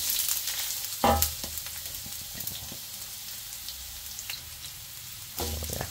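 Garlic and ginger sizzling in hot cooking oil, a steady crackling fry with a couple of louder hissing bursts as more goes into the pan, no talk.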